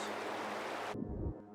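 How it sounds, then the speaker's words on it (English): Beach ocean ambience runs as a steady, full wash of surf noise, then abruptly turns muffled and low as a low-pass filter cuts the highs, leaving a dull rumbling rush. "took like a beach sound or like an ocean sound"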